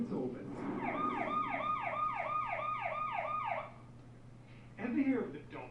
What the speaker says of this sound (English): ambulance rushes past you and the sound you hear changes frequency.